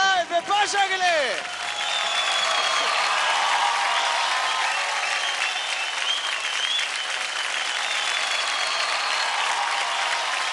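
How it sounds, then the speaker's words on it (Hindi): A studio audience at a televised dance competition breaks into loud, sustained applause with cheering after a brief spoken line, the clapping staying dense and steady to the end. "जोरदार ताली हो जाए विपाशा के लिए."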